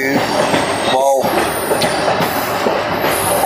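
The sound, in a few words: Kollam to Chennai Egmore Express train passing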